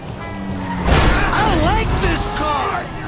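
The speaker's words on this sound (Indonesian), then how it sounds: "Wah, hancur mobil kita" A car crashes in GTA V with a sharp broadband smash and crunch of impact, followed by lingering debris and engine noise while someone talks excitedly over it.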